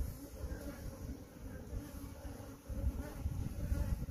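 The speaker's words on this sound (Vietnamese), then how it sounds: "ong chúa đây, khá to khá đẹp đây mọi người" Bees from a swarm being caught inside an electric pole hum in a low, steady drone throughout, close by and moderately loud, with rustling handling noise rising toward the end.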